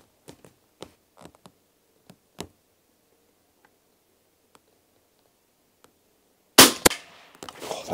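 A suppressed WW2 De Lisle carbine fires its last round: a sharp, quiet crack after scattered faint ticks and clicks, followed by a burst of louder handling noise near the end.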